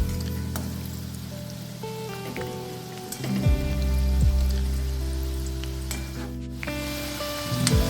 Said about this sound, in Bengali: বেশ লালচে করে ভেজে নিচ্ছি।